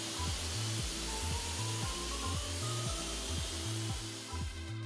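A Kränzle pressure washer sprays a tire with a steady, loud hissing jet over a low, rhythmic pump pulse that repeats about once every half second throughout.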